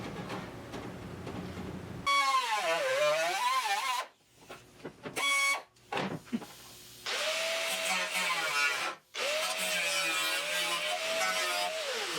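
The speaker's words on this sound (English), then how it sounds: "I'm gonna grind it now" Angle grinder biting into metal during floor and flange fabrication on a 1974 Triumph TR6 restoration: loud, close, whining bursts with a wavering pitch, cut by short pauses and stop-start runs, no talking.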